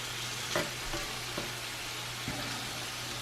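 Pieces of pork frying in a pan, with a steady soft sizzle and a few brief stirring clatters, close and fairly quiet, no voices.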